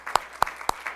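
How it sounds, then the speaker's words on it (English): At a school committee meeting, four sharp, evenly spaced claps ring out within a second, fairly faint and isolated like a single person clapping rather than a full crowd. "one more round of applause for our students."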